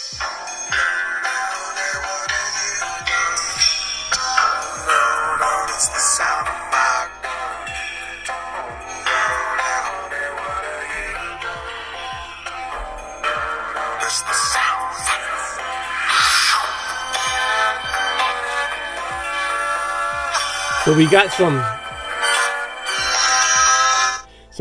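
A busy electronic ringtone melody blares from the small loudspeaker of a 2019 NUU Mobile G3+ budget phone, loud and slightly harsh, with a brief spoken word near the end.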